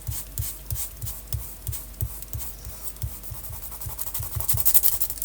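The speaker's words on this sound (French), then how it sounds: "Je frotte un peu, je chauffe un peu." Chalk paint is rubbed onto a surface in a close, rhythmic series of soft scrubbing strokes, about two per second, growing slightly louder and busier toward the end.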